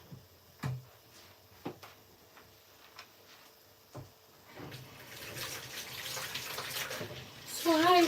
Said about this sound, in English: I just want to quickly wash this bowl.